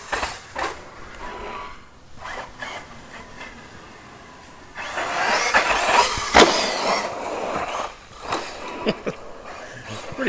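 An Arrma Typhon 3S RC car ripping around small wooden skate park ramps, its electric motor whining in short bursts, then a longer loud run with rattling and clattering near the middle.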